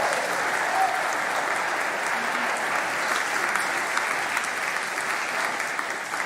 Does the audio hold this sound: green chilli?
no